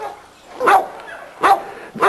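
A breeding-yard dog near its feed bowl gives two loud, close barks about a second apart, with a third starting at the end.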